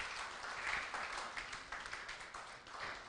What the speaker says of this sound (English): So let's applaud Freedom Hills as well.